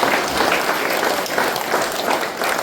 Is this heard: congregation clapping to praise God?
yes